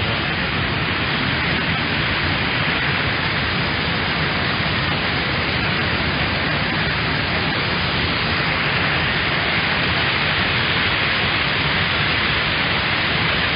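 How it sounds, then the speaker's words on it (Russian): Water foams under pressure as it rushes beneath a worn concrete dam in spring at Bryansk, a steady, loud, unbroken waterfall-like roar that fills the whole stretch with no voices. "Вода пенится, под давлением проходит под плотиной."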